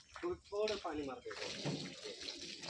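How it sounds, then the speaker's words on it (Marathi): Water is splashed across a porch floor during monsoon-season washing, a broad rushing splash that follows a voice talking and continues steadily to the end. "सगळीकडे पाणी मारून घ्या"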